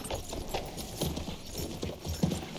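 Horse hooves clip-clop in a steady, close rhythm as a horse is ridden in the video game Battlefield 1, with no talking.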